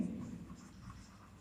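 Pen or marker on a board or paper during a trigonometry lesson, producing faint, soft scratchy strokes close by in a quiet room.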